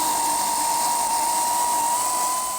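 A power tool whines continuously as it removes the rear leaf spring shackle bolts on a late-model Chevy Astro van, a loud, steady high-pitched tone throughout, close up, with no talking.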